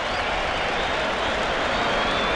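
Dense, loud wall of applause and cheering from a Queensland rugby league crowd in 1986, greeting a well-placed kick into touch, sustained without a break from start to finish.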